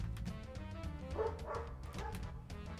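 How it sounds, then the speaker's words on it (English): Dog barking outside, several soft, distant bow-wow barks in a short burst over steady background music. "I think that's my dog outside, actually."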